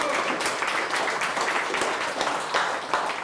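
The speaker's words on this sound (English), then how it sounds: "Hand of applause for Victor" An audience at an office live event claps for a person called to the stage, dense steady applause filling the room for the whole span at moderate volume.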